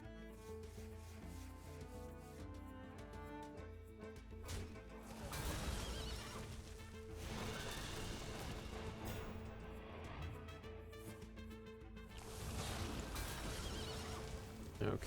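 Horses neighing in a video game, a thick overlapping chorus of whinnies and hoof clatter with rubbing, scraping textures, swelling in loud waves across the stretch.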